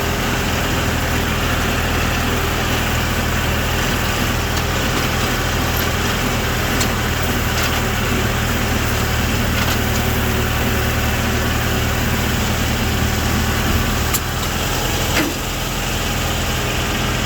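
A tractor engine idles steadily, a continuous low rumble that holds close and even throughout with no talk over it.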